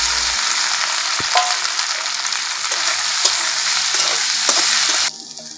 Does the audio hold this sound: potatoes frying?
yes